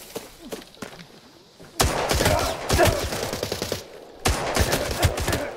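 Rapid automatic gunfire in the shooter video game Arena Breakout: Infinite, with sparse scattered shots followed by two loud sustained bursts, close and sharp against a quieter background.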